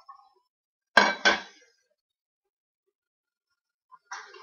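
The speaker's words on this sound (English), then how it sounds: "I'm going to go ahead and scrape the rest of my batter off of my table scraper" A metal table scraper clinks sharply twice while sourdough discard cracker batter is scraped off it, then falls quiet before a softer clatter near the end.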